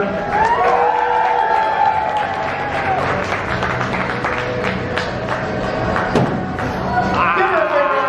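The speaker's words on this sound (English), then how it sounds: "Make some noise for her." A crowd applauds and cheers a stunt performer at an oddities and curiosities expo in Atlanta, loud sustained clapping with whoops and shouts, voices rising over the ovation and thumps throughout.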